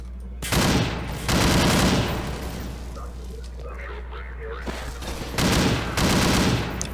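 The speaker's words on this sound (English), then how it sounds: "Who's shooting at me?" Gunfire in SMOD Outbreak, a Half-Life mod: loud rapid bursts of automatic fire in two clusters separated by a quieter stretch with scattered sounds, close and harsh.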